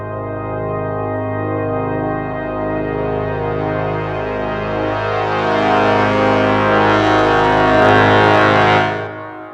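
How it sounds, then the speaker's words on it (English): A sustained brass chord from the UVI Augmented Orchestra sample library swells steadily, thick and layered with modulation shaping its tone, growing louder toward the end before cutting off sharply. "And the brass chord sounds like this."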